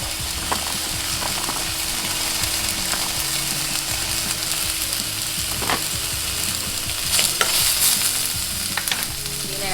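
Vegan japchae ingredients sautéing in a pan give a steady, loud sizzle, and the spatula scrapes and clicks against it now and then, with a few sharper clatters near the end.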